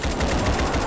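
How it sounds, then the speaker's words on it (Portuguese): Rapid gunfire in the Roblox game Chaos Theory rattles as a dense, continuous burst of shots, loud and close, with no pauses and no talking. "A quantidade de tiro"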